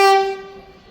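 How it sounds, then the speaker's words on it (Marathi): A Vande Bharat train sounds a single loud, close horn blast on arrival, the bright tone ringing briefly and then decaying. "तुम्हाला दिसत असेल आता वंदे भारत ट्रेन आलेली आहे."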